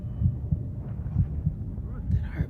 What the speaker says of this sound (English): That heartbeat is a nice touch